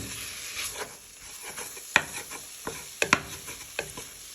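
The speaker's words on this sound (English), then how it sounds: "So as you can see, our beef is now cooking." Beef pieces frying in a pan for a madras curry while a wooden spoon breaks them up and stirs, giving a steady sizzle broken by several sharp scrapes and clacks of the spoon against the pan.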